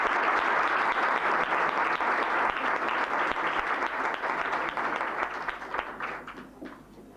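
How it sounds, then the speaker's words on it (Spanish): Audience applause at a lecture on a UFO sighting, a sustained crowd of clapping hands heard from some distance, steady at first and then thinning and fading out toward the end. "Les pido un aplauso para iniciar su charla y continuamos."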